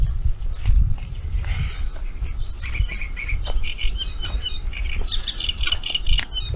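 Parakeets squawk in trees beside a lake, a mix of sharp repeated calls and chirps at moderate distance over steady outdoor background noise, with no talking.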